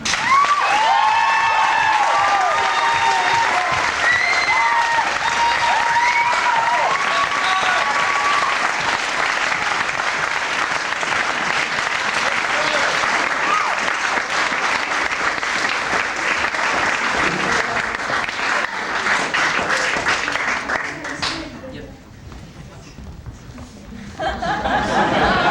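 Sustained, loud applause from a theater audience at an avant-garde performance by a Leningrad state theater ensemble, steady for about twenty seconds with scattered laughter and cheering mixed in, thinning briefly near the end before swelling again.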